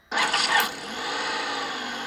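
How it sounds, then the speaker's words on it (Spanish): A car engine in a diagnostic training simulator with a crankshaft sensor fault cranks with a loud burst, then settles into a steady, even idle drone. "hasta el momento el motor ya ha arrancado"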